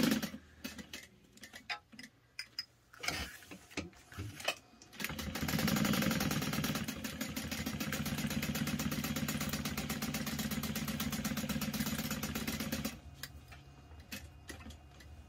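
A sewing machine top stitches at a long 4.5 stitch length, starting after a few clicks and handling noises, then running in one steady, fast rhythmic whir for several seconds before stopping.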